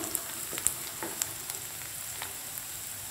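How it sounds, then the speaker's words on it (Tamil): Onions with curry leaves sizzle steadily in a hot pan, with a constant hiss and occasional small pops and crackles. "வெங்காயம் இந்த அளவுக்கு வதங்கினா போதும் ரொம்ப வதங்க வேணாம்"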